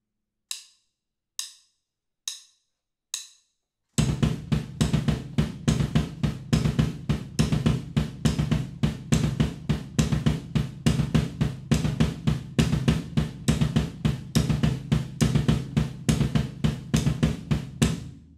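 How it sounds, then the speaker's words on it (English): Four sharp count-in clicks, then a drum kit pounding a double bass drum Herta kick pattern in fast triplets, dense and steady under cymbals, loud and close, with no talk. "We'll start by playing them as triplets so the kick pattern fits evenly in each beat"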